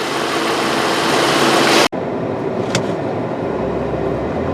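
Car pulling away from a stop on a test drive for a transmission with suspected solenoid trouble, a steady engine and road rumble inside the cabin, broken by one abrupt brief dropout, then a short higher whine over continuing drive noise.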